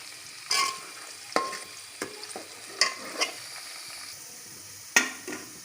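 Onion and ginger frying in a pan for chicken nihari, a quiet low sizzle punctuated by a handful of brief, sharp stirring scrapes spaced irregularly.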